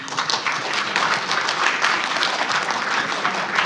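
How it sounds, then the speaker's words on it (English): An audience at an education panel session claps for the speakers, a dense, even burst of many hands applauding continuously throughout. "perhaps we give a hand clap to our speakers"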